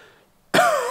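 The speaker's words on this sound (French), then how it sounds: "je tousse un petit peu encore" A single sharp cough bursts out after half a second of near silence, loud and close, with a brief rasping tail as the breath trails off.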